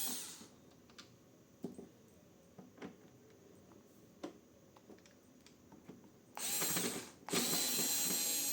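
Screws come out of the back panel of a Hiniso dehumidifier: faint, sparse ratcheting clicks from the screwdriver, then two louder scraping bursts near the end.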